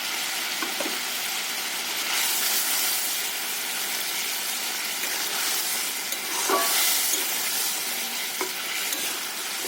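Rui fish curry with curd and poppy seed boiling hard in a pan, a steady close bubbling sizzle with a few louder stirring swells and no voices.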